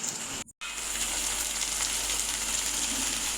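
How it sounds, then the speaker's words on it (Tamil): Onion, garlic and curry leaves sautéing in a kadai give a steady, loud close sizzle of frying that runs nearly the whole time, with one brief dropout near the start. "இப்போ நம்ம கடாயில் போட்ட வெங்காயம், வெள்ளைப்பூடு, கருவேப்பிலை இது எல்லாத்தையும் ஒரு கரண்டி எடுத்து நல்லா வதக்கி விட போகிறோம்."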